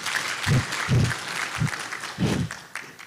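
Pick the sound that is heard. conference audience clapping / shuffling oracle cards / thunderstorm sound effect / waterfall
conference audience clapping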